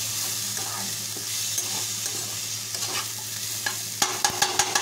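Tomatoes and onions are stirred in a frying pan for a boiled egg sabzi over a soft, steady sizzle, ending in a run of sharp, rhythmic spatula scrapes and taps.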